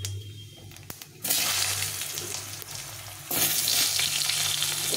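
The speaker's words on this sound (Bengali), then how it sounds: "প্রথমে আমি আলুটা ভেজে নেব।" Potatoes frying in oil with panch phoron and cumin, a hissing sizzle that jumps louder in two bursts as the pieces are stirred, with occasional scraping clicks.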